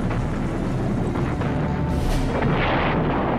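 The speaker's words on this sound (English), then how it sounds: "the Germans at the Zelo Heights were blasting away with a highly effective weapon, their famous 88-millimeter gun" German 88-millimeter gun firing in World War II artillery fire at the Seelow Heights, heard as a dense, continuous rumble of distant blasts with one stronger burst rising midway, no voices.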